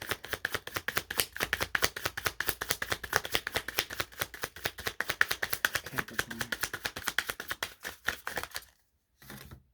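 Tarot cards are shuffled close and steadily, a dense rapid riffle of crisp paper flicks that runs for several seconds, then a brief pause and a short final burst.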